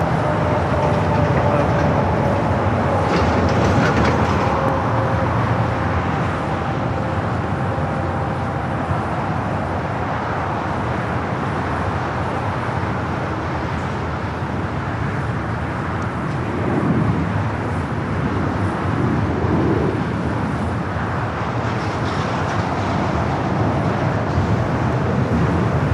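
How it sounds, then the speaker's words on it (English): An airliner thunders down runway 24 Left at LAX on its takeoff roll, a broad, sustained roar heard from a distance that swells and holds steady for the full length, with a faint whining tone early on. "runway 24 left, clear for takeoff."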